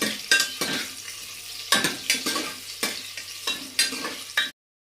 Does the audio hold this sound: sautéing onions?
yes